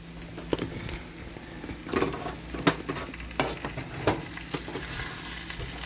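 Potatoes sizzle and crackle as they crisp in a hot pan, with occasional stirring scrapes and small pops, fairly close and steady.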